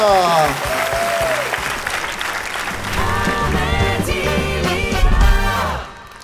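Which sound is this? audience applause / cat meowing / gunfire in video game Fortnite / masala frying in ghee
audience applause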